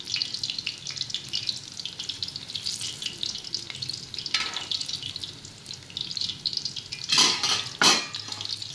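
Cocoa boils in a pot, giving a dense, steady bubbling hiss up close, with a couple of louder surging bursts near the end.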